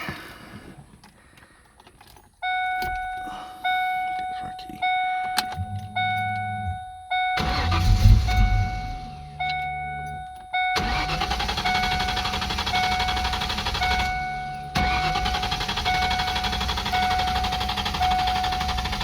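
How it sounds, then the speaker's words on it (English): A 1994 Ford Mustang GT engine cranks and sputters in bursts, followed by a steady whine and a long continuous droning run, with a faint tone ringing throughout. "So let me see if it'll get this thing to crank."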